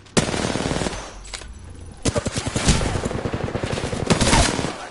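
Rapid automatic gunfire bursts in the video game Apex Legends, loud and close, with dense repeated shots and a few sharp single cracks over about five seconds, no talking.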